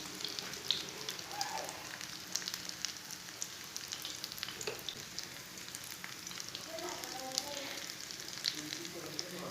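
Bread frying in a pan with a soft, steady sizzle that stays fairly quiet and continuous throughout, with no talking.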